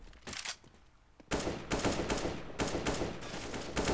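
Rapid bursts of gunfire from a CS:GO esports match on the Overpass map, dense repeated shots crackling loudly over several seconds with a quieter opening stretch before heavy sustained firing.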